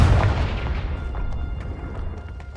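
A single loud Confringo spell explosion from the Hogwarts Legacy video game gives a deep booming blast that decays into a rumbling tail with a few faint crackles, with no talking.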